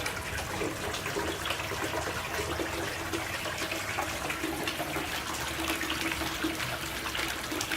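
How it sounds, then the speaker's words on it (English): Water runs steadily from a hose into a bucket of muddy mining tailings, a continuous rushing splash heard close and alone throughout. "having that hose in there kind of keeping that water somewhat clear"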